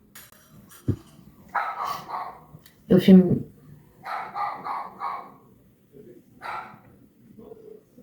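A dog barks a few times at moderate distance, sharp single barks scattered among a woman's nearby speech in a room.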